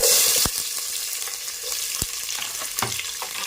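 Small onions and fennel seeds fry in hot oil for a drumstick kuzhambu, an initial loud sizzle as they hit the pan settling into a steady crackling hiss, with a few sharp spoon taps and stirring scrapes nearby.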